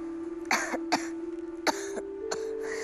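A person with a cough coughs several times in short, separate bursts, close and fairly loud, over a steady low hum in a quiet room.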